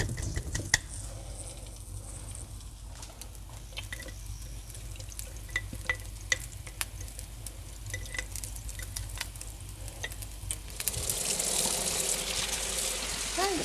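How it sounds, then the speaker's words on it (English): Dried home-canned potatoes drop into hot butter in a pan, giving a faint close sizzle and scattered pops and crackles that swell into louder, denser frying near the end; no one talks. "I'm going to go ahead and pour the potatoes in"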